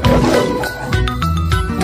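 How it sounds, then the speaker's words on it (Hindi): A lion gives a loud, close roar in a cartoon jungle story, growling forcefully, with bright jingling tones and a musical backing mixed in over two seconds. "ये सुनते ही लायन जोर से दहाड़ा"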